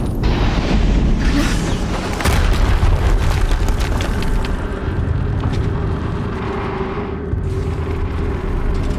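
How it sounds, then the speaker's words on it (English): Explosions in Horizon Zero Dawn, in the Maker's End level, come as a series of loud, close booms and crackling bursts that roll on over nine seconds, layered over constant heavy rumbling battle noise. "Another explosion."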